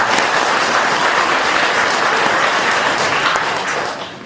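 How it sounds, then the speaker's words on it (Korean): Audience at a Buddhist temple New Year's Eve Dharma gathering applauds in a steady, dense burst of clapping that fills the room and tapers off near the end, with no talking over it. "재밌죠? 박수."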